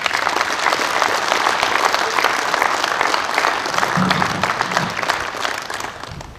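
Sustained applause from the crowd at a Slovenian Army Logistics Brigade celebration in Slovenska Bistrica, honouring award recipients; dense, steady clapping that stays loud throughout and tapers slightly at the end.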